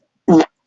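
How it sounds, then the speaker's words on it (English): A single short fart, loud and close, lasting about a quarter second, with silence on either side. "Now I got to fart."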